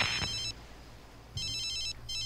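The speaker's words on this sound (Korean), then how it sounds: "아, 카롤리나 선배 전화와요." An incoming-call ringtone in The Sims 3 video game, bright electronic trills sounding in repeated short bursts separated by brief quiet gaps.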